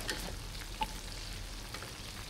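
Turmeric-coated chicken wings fry in hot oil, giving a steady, soft sizzle and crackle with an occasional faint pop.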